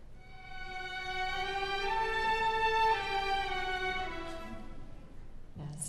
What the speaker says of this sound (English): That's the sound of the violin.